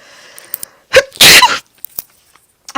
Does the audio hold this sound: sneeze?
yes